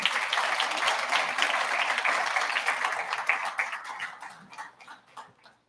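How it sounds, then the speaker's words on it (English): An audience at an official World Food Day event applauds performers as they leave the stage, a dense, sustained round of clapping that thins and fades out over the final seconds. "Another round of applause while they exit, please."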